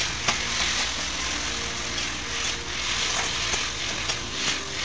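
Hilsa fish head dish stir-fried in a wok until dry, with a steady crackling sizzle and a few sharp scraping strokes from a spatula at irregular intervals.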